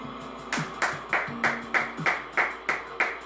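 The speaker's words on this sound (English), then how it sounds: "I can't believe we're actually applauding them more than FTR." Spectators at a wrestling show clap in a slow, steady rhythm, about eight even claps that sound fairly close, with no talking over them.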